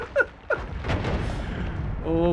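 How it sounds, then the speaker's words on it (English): Bomb rain in the video game Noita: a burst of overlapping booming explosions and crackling blasts, loud and close, with a short tonal game cue rising near the end. "Oh, bomb rain."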